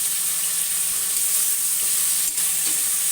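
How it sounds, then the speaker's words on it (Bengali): Chopped onion and tomato fry in a pan while being stirred, producing a constant bright sizzle with soft scraping strokes, close and even for the whole stretch, with no talking. "পেঁয়াজ টমেটোটা একেবারে মিশে যাওয়া পর্যন্ত ভাজবো"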